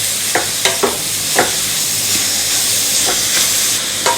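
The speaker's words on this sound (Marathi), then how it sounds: "या तुपावरती गाजर थोडा वेळ आपल्याला परतून घ्यायचा आहे गॅसची फ्लेम मिडियमच ठेवायची आहे" Grated carrot sizzles steadily in ghee in a pan over a medium gas flame as carrot halwa is made, a loud continuous frying hiss with occasional soft stirring scrapes.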